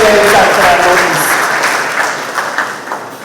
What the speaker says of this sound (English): Please give Mr. Clifton a round of applause.